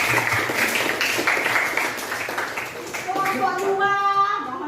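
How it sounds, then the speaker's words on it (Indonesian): Schoolchildren in a classroom clap for a group's performance, a burst of bright, uneven hand claps that swells and fades, with children's voices and a rising tonal sound near the end. "tepuk tangan dulu kelompok 3."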